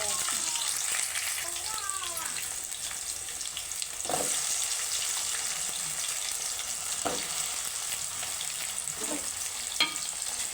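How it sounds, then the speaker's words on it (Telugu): Onion pieces fry in a pan of oil for tomato rice, giving a steady, close sizzle that runs throughout, broken by a few soft stirring scrapes. "ఉల్లిపాయ ముక్కలు ఇవి బాగా ఫ్రై అయిపోతున్నాయి"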